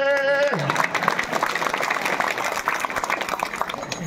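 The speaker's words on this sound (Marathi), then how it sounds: "एकच नंबर पंक्तीवाल्यासाठी टाळ्या वाजवा कडकडून" A voice is briefly heard, then an audience breaks into sustained, loud, dense applause that carries on to the end.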